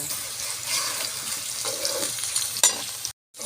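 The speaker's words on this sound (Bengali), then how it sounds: "কলা আলু সুন্দর করে লাল লাল করে আমি ভেজে নিব।" Potato pieces frying in hot oil in a pan for a chicken vegetable dish, a dense continuous sizzle with occasional stirring scrapes, close and fairly loud with no talking.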